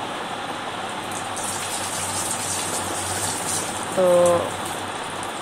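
Banana pitha batter fries in hot oil with a continuous soft bubbling hiss, and a brief spoken word cuts in near the end.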